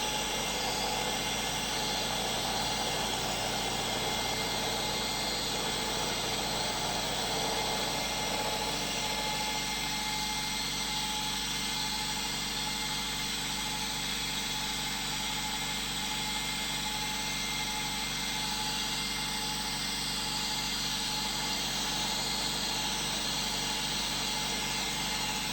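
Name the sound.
David Brown 996 tractor engine running at about 1000 RPM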